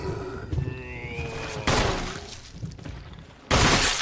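Gunshots ring out in the Resident Evil Remake video game as a zombie takes a headshot: two sharp, loud broadband blasts about two seconds apart, separated by quieter shuffling game ambience.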